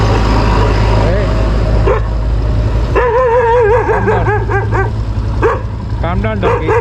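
A dog barks in loud, close yips and whimpers beside a vehicle on a rough off-road track near Kanakpura, with a low engine rumble underneath and someone talking over it.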